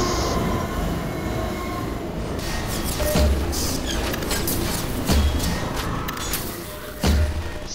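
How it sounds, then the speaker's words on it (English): A train rumbles past in Half-Life 2, a loud, continuous roar of wheels and carriages punctuated by heavy rhythmic thuds every couple of seconds as the cars clatter by. "That's a train."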